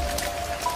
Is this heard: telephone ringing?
no